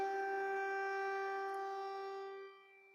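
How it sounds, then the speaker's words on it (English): An air raid siren sounds over Kyiv, a steady sustained wail holding for a few seconds before fading out, heard from a distance without talk. "We are hearing air raid sirens sounding off in Kiev."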